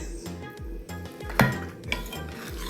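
Clinks and scrapes of dishes and cutlery as food is served onto a plate at a meal of dasheen bush, roti and rice, with one sharp clatter midway over a low steady rhythmic background hum and no talking.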